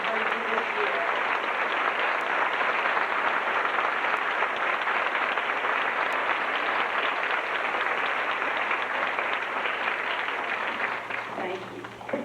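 Audience applause for the teachers at a 5th grade graduation ceremony: dense, steady clapping from a large crowd, loud and sustained for about twelve seconds before easing off at the end.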